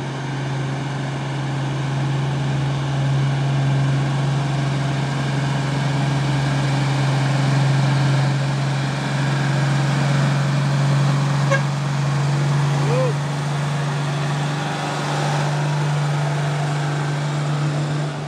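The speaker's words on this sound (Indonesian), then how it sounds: "Dua unit truk Fuso menanjak." Two orange Fuso tronton 6x2 trucks climb a grade in Sumatra, a steady, loud diesel engine drone holding a low hum throughout, with road noise around it and no speech.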